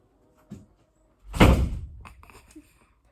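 A door being shut: a single solid slam with a short reverberant tail, preceded by a faint small knock, loud and close in an otherwise quiet room.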